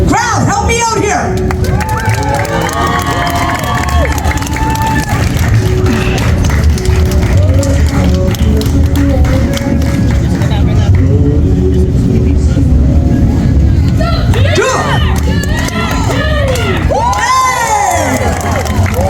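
A large outdoor crowd cheers and shouts at a board-breaking jump show at the Taste of Lawrence festival, with a loud, sustained roar of many voices. An announcer talks over it and children's shrill yells rise near the end.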